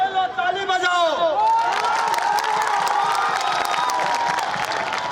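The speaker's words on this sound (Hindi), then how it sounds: "ताली बजाओ।" Political rally crowd in Harsiddhi, Bihar bursting into clapping and cheering after a brief stretch of amplified talk, dense rapid applause with shouts, loud and sustained to the end.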